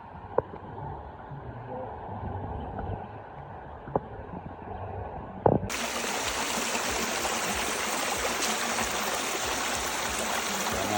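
A Jamaican river stream in Clarendon flows as a steady wash of water with a few sharp knocks. Partway through, the rush suddenly becomes louder and brighter, as if heard from much closer.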